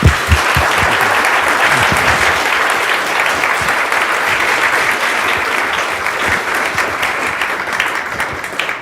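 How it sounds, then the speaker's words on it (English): Lecture audience clapping for Professor Hanson after his Last Lecture Series talk, a full burst of applause that starts strong and tapers slightly while staying dense and continuous. "One more round of applause for Professor Hanson."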